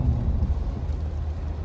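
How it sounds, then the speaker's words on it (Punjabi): Rain falls steadily outside as a dense, even hiss with a low rumbling undertone, continuous throughout and without voices. "ਬਾਹਰ ਪਈ ਜਾਂਦਾ ਮੀਂਹ"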